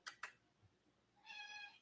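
A large male cat meows once, a short, drawn-out cry following two quick soft clicks, faint and fairly close in a quiet room.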